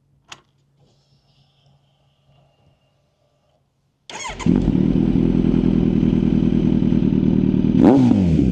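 A Kawasaki Z900 motorcycle, 2023 model, sits quiet with faint clicks before its engine fires up and holds a loud, steady, close rumble, surging with a sharp rev near the end.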